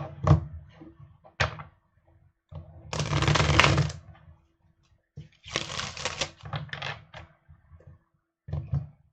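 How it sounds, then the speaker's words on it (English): Tarot cards are riffled and shuffled in several quick bursts, with soft taps and knocks of the deck between them, close and fairly quiet. "Now let me shuffle"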